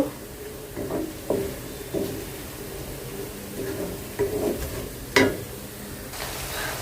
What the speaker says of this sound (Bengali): এখানে আমি আদা আর রসুন কুচি দিছি একটু হালকা ভেজে নিচ্ছি